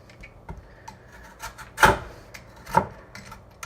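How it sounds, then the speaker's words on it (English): A peeler scrapes thin strips from a raw butternut squash, giving two distinct rasping strokes close by, with fainter scratchy rubbing between them and no talk. "Let me peel off a little more here."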